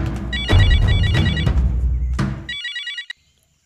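A telephone rings loudly with a bright electronic ringtone in repeated warbling bursts, set in an action movie scene, cutting off after about three seconds.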